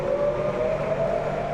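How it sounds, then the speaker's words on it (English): A steady wailing air raid siren sounds from a distance near Tel Aviv, warning of rocket fire, one sustained tone held without breaks. "The sirens ringing out again in the same spot near Tel Aviv today, sending people running for shelter."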